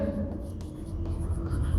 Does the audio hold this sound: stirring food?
no